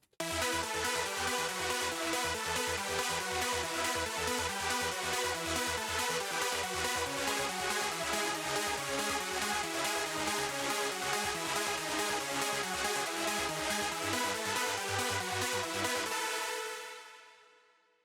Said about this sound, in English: Get this kind of huge layered super saw lead here.